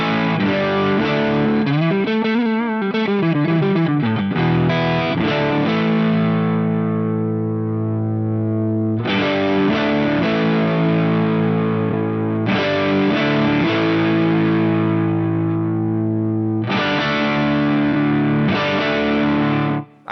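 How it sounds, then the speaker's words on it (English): Electric guitar played through a Tube Screamer-style Super Overdrive, with thick distorted chords and bent notes ringing out in sustained phrases, loud and close. "one classic thing about the Super Overdrive. This is basically a tube screamer."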